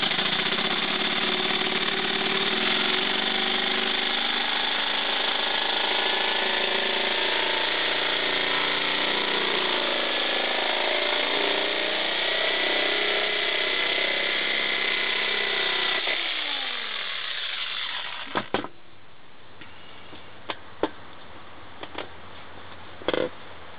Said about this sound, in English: You can use a saber saw like this to do that. And I'll just give you a little demonstration of that.